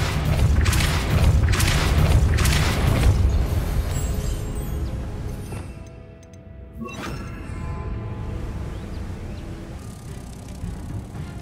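Booming, rumbling blasts and a crash of shifting debris from the Depulso force spell in Hogwarts Legacy, loud and close, followed by a quieter stretch of mechanical rattling and settling noise.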